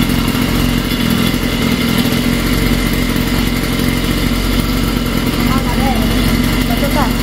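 A Walk Bike 42cc motorized bicycle engine idles loudly and steadily, its small two-stroke putter running continuously throughout with a rattly mechanical clatter, while people talk nearby.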